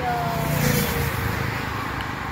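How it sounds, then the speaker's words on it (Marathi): Outdoor traffic noise from passing road vehicles in Panvel, a steady broadband roar that holds at an even level throughout, with a faint tonal whine drifting in and out and no clear speech. "बाहेर शूट करायचं म्हटलं की आवाज तर येणारच आहे गाड्यांचा वगैरे"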